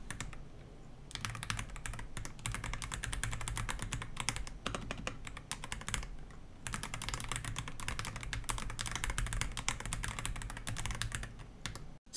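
Typing on a Dareu computer keyboard with membrane-style keys, a fast steady stream of soft clicking keystrokes, close and fairly quiet, pausing briefly twice before resuming, with no talk.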